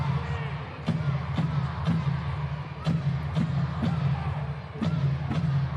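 Crowd noise at an indoor soccer match between the Texas Outlaws and Milwaukee Wave, a steady arena murmur with sharp ball thumps and bangs echoing through it, commentator talking over it.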